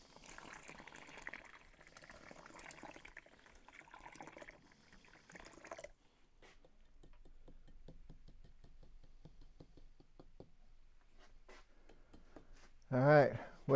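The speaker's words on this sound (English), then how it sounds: "there's always a point in every pot when the water hits the concrete and there's no turning back." Water is poured onto dry concrete mix for a large planter pot for giant sequoia trees, a faint, steady wash of pouring that gives way to quiet scattered drips and taps, with a brief louder sound at the end.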